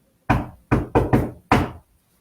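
Five sharp knocks on a wall, loud and close, in an uneven pattern: one, then a quick group of three, then a final knock, with silence afterward.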